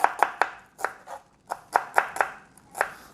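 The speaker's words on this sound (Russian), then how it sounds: "Лук мы нарезали." A knife chops an onion on a board while a shrimp dish is being cooked: about a dozen crisp, close, uneven chops with short pauses between them, and no talking.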